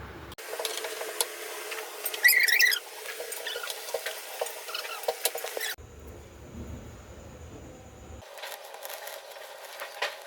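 Dough balls of kneaded flour fry in hot oil in a home kitchen on a Kali Puja festival day, giving a steady crackling sizzle for several seconds, then a quieter stretch with a thin tone and some faint background noise.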